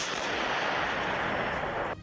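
Russian artillery guns firing shells among trees, a dense sustained roar of booming blasts filling the sound, loud and continuous, cutting off near the end.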